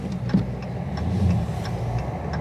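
A 2022 Dodge Charger Scat Pack Widebody on regular tires sits in snow, its engine holding a steady low idle rumble close by, with a few faint ticking sounds over it.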